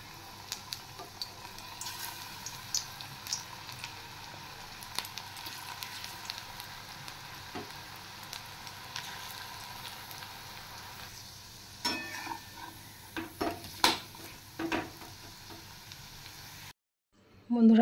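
Bora fritters drop into hot oil and fry with a steady, close sizzle and scattered crackles that grow busier and pop more sharply toward the end.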